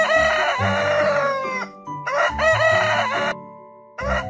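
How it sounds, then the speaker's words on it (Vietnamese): A rooster crows loudly and close, two long full cock-a-doodle-doo calls followed by the start of a third, set against a steady musical backing in a children's animal-sound guessing game. "Con gà trống."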